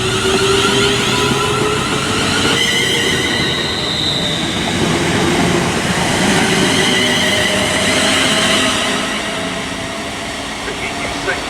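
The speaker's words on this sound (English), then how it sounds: "the final now is going to be the 10:45 West Midlands Railway" A West Midlands Railway service to Birmingham New Street runs through Birmingham International on the West Coast Main Line with a loud, close rumble and a sustained high wheel squeal, voices faintly present beneath the noise.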